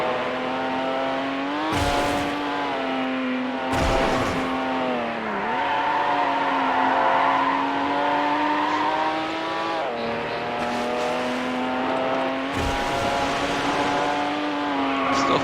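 A race car engine in the Need For Speed Hot Pursuit 2 video game drones steadily at high revs, pitch dipping at gear shifts and corners, with brief whooshes of passing and tire scrubbing, loud and close.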